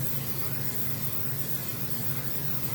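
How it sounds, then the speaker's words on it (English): A soft, steady hiss of canola oil cooking spray being released continuously for a few seconds over bread dough, close by and fairly quiet. "I'm going to take my vegetable spray, it's canola oil, and I'm just going to spray right on top"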